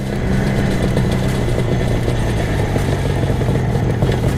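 An IZh Jupiter 400cc motorcycle with twin carburetors idles close by, a loud, steady, rapid burbling engine drone that runs unbroken for the whole stretch with no talk.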